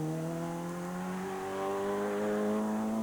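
A rally car engine drones steadily at the 1997 Jersey Rally, its tone climbing gradually as it accelerates, heard from a moderate distance with no voices.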